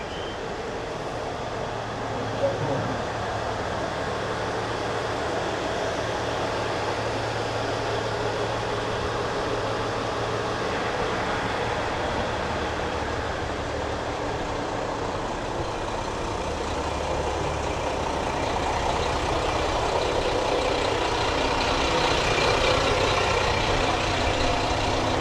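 A loud, steady diesel train rumble in Japan with a constant engine drone and broad mechanical noise, sustained throughout without pauses.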